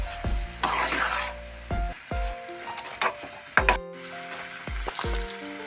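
Semolina stirred in a pan for a carrot sandesh sweet, heard as scraping spoon strokes and light sizzling, with repeated sharp clinks of the utensil against the pan through the clip.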